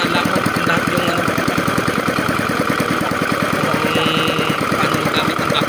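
New 12 HP low-speed engine fitted to an outrigger boat, running with a fast, even knocking pulse at close range, loud and steady throughout, with no voices over it.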